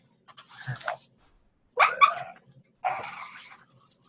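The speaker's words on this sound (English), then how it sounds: "my dog is making some noise" A dog makes three short bursts of whiny, yelping noises with pauses between them, close by and fairly quiet.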